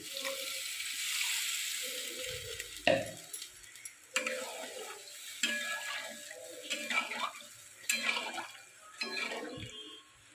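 Curry in a pan on the stove after a splash of water is added, with bubbling, a soft sizzle and spoon stirring in several short bursts, close up and moderately loud.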